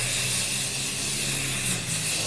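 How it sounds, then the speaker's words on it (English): A steady, continuous hiss of Kryolan makeup fixing spray, close by, lasting a couple of seconds with only slight dips in intensity. "Now we're gonna go in with the Kryolan fixing spray."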